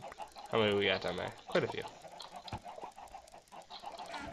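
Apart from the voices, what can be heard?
chickens clucking in a video game farm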